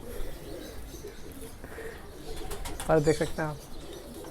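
A Kale Chapdar high-flying pigeon coos softly in a brief, low burst near the end, beneath someone talking.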